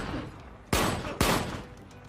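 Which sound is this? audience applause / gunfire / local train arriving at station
gunfire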